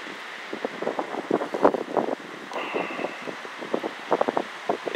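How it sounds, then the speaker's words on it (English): Gusty wind blows outdoors on a fall day in a freshly plowed garden plot, a steady rushing buffeting the microphone with irregular bursts and flutters throughout. "A little wind, ain't it?"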